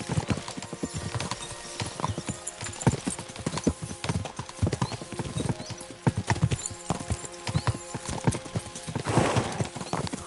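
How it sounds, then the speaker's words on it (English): Horses galloping in Kingdom Come 2, dense rapid hoof clip-clops pounding steadily and loudly throughout, with a brief whinny-like swell near the end. "We should spur the horses on."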